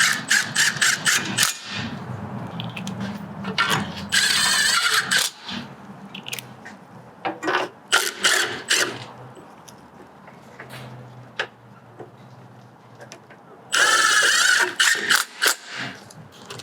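A hand ratchet tightening transmission bolts on an Audi A4 B8 with a CVT, with close, rapid clicking in short bursts separated by pauses and a longer run of clicks near the end.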